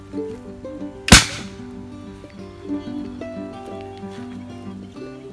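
A homemade alcohol-fuelled bird-scaring gun fires a single sharp crack, close and loud, over a background of steady music and low ambient sound.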